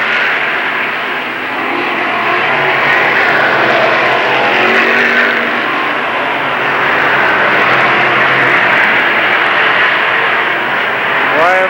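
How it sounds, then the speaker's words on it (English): Modified race cars at Lernerville Speedway, a dirt track, in 1994: a continuous loud engine roar from a pack of cars circling, rising and falling slightly as they pass. "Now Blaney puts the pressure on Ripper as Kraus closes in the 83 car."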